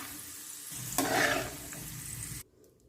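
Peanuts frying in hot oil for an okra fry make a steady soft crackle and sizzle, swelling briefly louder midway before cutting off abruptly near the end; no one speaks.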